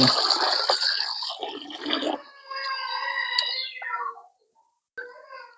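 Water splashing and running as pond fish is washed and rinsed for a Jaffna-style curry, a busy burst of sloshing followed by quieter trickling and a brief pause.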